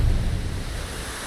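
Steady rushing roar of a waterfall in a video game, a broad continuous wash of water noise with a slightly heavier low rumble at the start.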